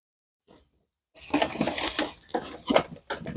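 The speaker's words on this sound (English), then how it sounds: "And I am going to put my lid on." Lid set onto an Istoyo resin bubble remover machine: a faint tap, then a burst of close plastic rattling, clacking and scraping as it is fitted, ending in a few sharper knocks.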